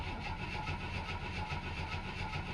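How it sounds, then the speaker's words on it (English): A 1964 Chevy II engine cranking over on the starter, a steady rhythmic churning drone that stays even and fairly quiet throughout without catching, no voices. "It's cranking."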